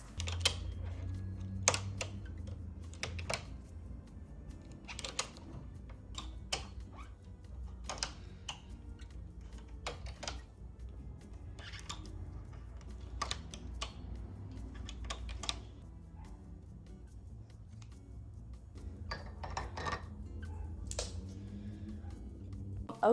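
Stitches are cast off on a knitting machine while a wool dress is made, producing a steady run of light, rapid clicking and tapping knocks, fairly close and soft, with no talk.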